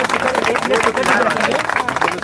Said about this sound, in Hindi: मैं राहुल विद्यार्थी जी के लिए जोरदार ताली होना चाहिए